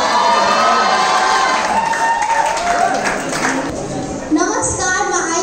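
Audience of schoolchildren at a junior poetry recitation contest clapping, cheering and shouting for a contestant, loud and continuous before fading into a voice near the end.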